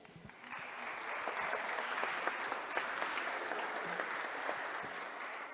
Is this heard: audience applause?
yes